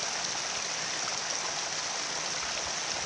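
Mountain stream water flowing steadily, a dense continuous rushing and splashing close by, with no voices over it.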